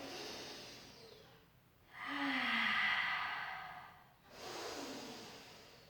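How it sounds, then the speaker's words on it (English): Deep breathing during a Pilates stretch with the head hanging toward the floor: two long, audible breaths close to the mic, each rising and fading, separated by a short quiet gap, with no talking. "take a few breaths in"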